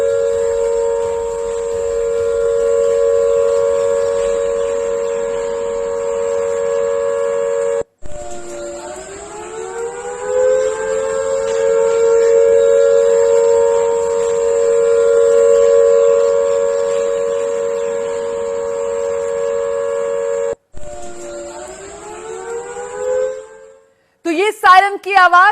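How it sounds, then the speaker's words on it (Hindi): Civil defense air raid sirens wail across Chandigarh, a loud, sustained tone that drops and climbs again in long cycles, with brief breaks between them. "पहले जरा सुन लीजिए किस तरीके से सायरन बज रहे हैं।"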